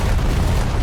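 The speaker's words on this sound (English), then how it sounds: "These bombs don't have any, like, time that they stay. You just drop them and they immediately explode." Bombs dropped from a World War One-era plane in War Thunder detonate on impact, a loud, continuous low rumbling blast that fills the moment with no voices over it.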